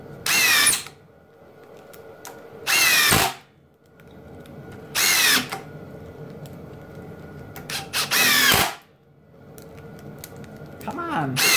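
Ryobi cordless power tool fired in five rapid bursts, each a loud, short whirring burst under a second long, separated by brief pauses with a person talking between them.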